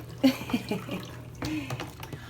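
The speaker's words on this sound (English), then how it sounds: "While I'm waiting for the wig to kind of drain and for the water to empty out" Water mixed with fabric softener drains from a sink after soaking a wig, giving soft gurgles and splashy trickles with a few brief drips, fairly close and moderately quiet.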